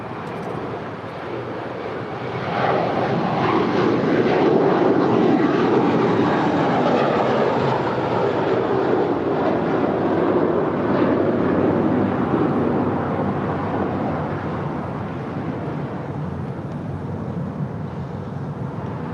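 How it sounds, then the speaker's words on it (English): A JetBlue Airways Airbus A321 departs from LAX, a steady broadband jet roar that swells after a couple of seconds, holds for most of the span and eases slightly toward the end, heard from a distance with no talk. "next departure, JetBlue Airways, flight 1524, heading to JFK, A321"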